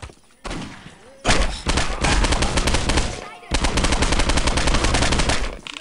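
Loud, dense bursts of gunfire from a violent video game as police are shot, rapid automatic volleys broken by a couple of brief pauses, with game sound underneath.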